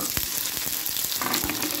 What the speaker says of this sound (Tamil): எண்ணெய் சூடு பண்ணி கடுகு, உளுத்தம்பருப்பு கருவேப்பிலையும் சேர்த்து தாளிச்சு கடுகு வெடித்து